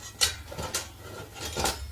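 A metal frying pan is handled on outdoor cooking equipment, giving three close, light clanks and scrapes separated by brief pauses.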